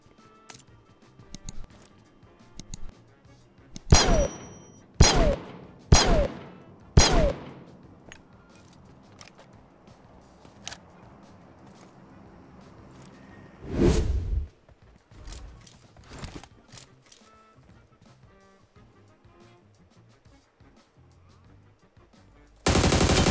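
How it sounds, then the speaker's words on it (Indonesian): PUBG gunfire in a video game: several loud, sharp shots spaced about a second apart, a longer burst later, then a final blast at the end, with quieter game noise and a faint voice between them. "nembakin temen gue jadi Messi coy"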